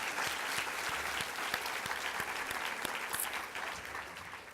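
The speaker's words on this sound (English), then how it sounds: "So just give Stuart a round of applause for that first." An audience at a women in resources seminar claps steadily for a man named Stuart, with dense, even applause filling the room for several seconds before it starts to taper.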